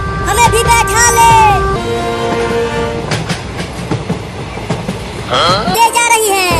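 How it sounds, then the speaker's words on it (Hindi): A passing train in a comedy sketch rumbles loudly and close with clattering wheels and bursts of horn-like tones, its sound shifting as it goes by, with voices talking over it. "अरे रुक जा ट्रेन, हमें भी बैठा ले।"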